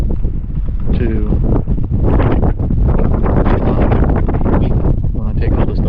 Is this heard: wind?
yes